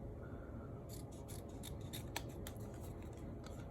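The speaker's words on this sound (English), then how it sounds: "Then we can take our scissors and cut it down and make it look nice and pretty." Scissors snip through a vinyl decal, a series of crisp close cuts in uneven rhythm over a steady low background hum.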